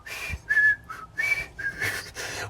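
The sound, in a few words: someone whistling a TV theme song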